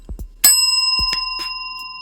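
A bright bicycle-style bell dings once as a subscribe-reminder sound effect, its clear tone ringing out and fading slowly, with brief low thumps just before it.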